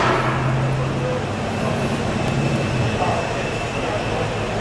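A 1978 Oldsmobile Starfire Firenza with a 5-litre V8 and stock exhaust pipes rumbles steadily at idle, a continuous low exhaust drone without clear speech over it.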